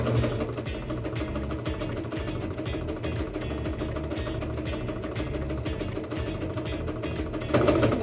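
Singer Starlet 6660 sewing machine stitching elastic onto fabric, a steady close mechanical whir and rapid rhythmic clatter running continuously throughout, with a slight shift in tone near the end.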